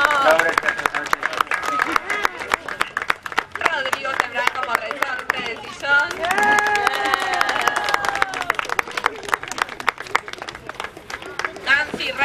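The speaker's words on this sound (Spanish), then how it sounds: "Aprovechá un fuerte aplauso para Cecilia." Audience claps and cheers during a municipal theatre group's play for children, with rapid dense clapping throughout. Voices call out over the applause, and a speaker talks through the middle.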